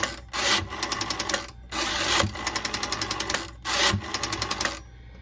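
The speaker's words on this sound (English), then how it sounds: "these dials have a very I would say like a real ratchety sound, but it's oiled very well" A 1953 Northern Electric 302 telephone's well-oiled rotary dial is wound and released three times, each wind a rough ratcheting rasp followed by a quick run of loud, evenly spaced clicks as it spins back, close up.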